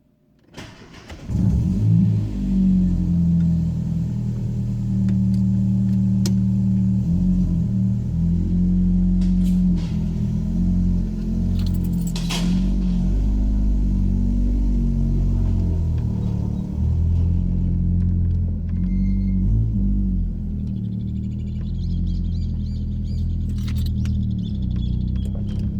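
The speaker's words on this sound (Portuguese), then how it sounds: "Vamos ver como é que fica o barulho dentro do carro aí." Inside a 2003 Volkswagen Gol Power with a straight-pipe exhaust, the engine starts and settles into a loud, rumbling idle with small throttle swells, heard steadily throughout without talk.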